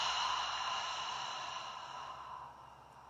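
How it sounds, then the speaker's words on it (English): A slow, steady exhale out through the mouth during a guided calming breathing exercise, a soft airy breath close to the mic that gradually fades over a few seconds, with no talking. "exhaling out the mouth"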